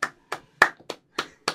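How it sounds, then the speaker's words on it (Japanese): One person clapping hands slowly and deliberately, six separate crisp claps spaced unevenly over a second and a half, close and loud against silence. "もうこれは拍手です"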